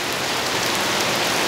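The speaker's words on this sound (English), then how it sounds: "Rainy, rainy day today." Steady rain falls outside a garage on a wet day, a dense, even hiss of drops striking surfaces, close and continuous with no talking.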